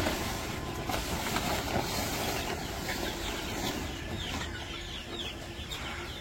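Chickens clucking while being fed during morning chores in a village, a dense continuous chorus of clucks heard up close with no talking.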